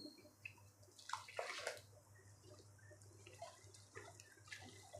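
Water running and splashing into a basin with coconut paste for mushroom biryani, a steady trickle with brief louder gushes, close by, with a low hum beneath.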